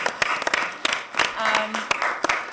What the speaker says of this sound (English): Worthy of clapping.